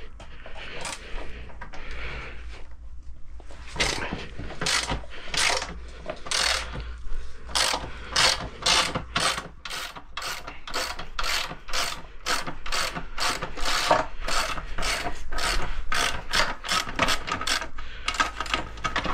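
Someone works a ratchet to loosen a very tight engine axle on a Derbi Euro 3 frame. The pawl clicks come in quick, close, repeated bursts that grow denser and steadier, with brief pauses in between.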